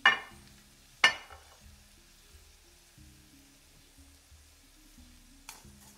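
Chopped onion and garlic frying in a pan, with two sharp clatters as the ingredients drop in, then a low, steady sizzle that fades under lighter, scattered scraping.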